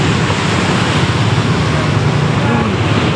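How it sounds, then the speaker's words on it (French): Sea waves wash in a steady, dense roar close by on the coast at Mui Ne, Vietnam, the rushing noise continuous throughout and mixed with background motor hum. "Oh, il y a des vagues."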